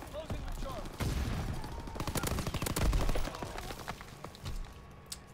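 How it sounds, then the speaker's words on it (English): Gunfire in the video game Call of Duty: WW2, with rapid automatic bursts and scattered single shots firing close and loud over a busy battlefield, while a voice talks over the action. "Actually spawned into their gunfire."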